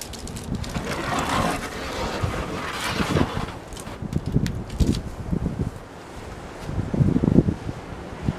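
Gusty wind roars outdoors, buffeting the microphone in uneven surges that swell and fade, strongest near the start and again toward the end.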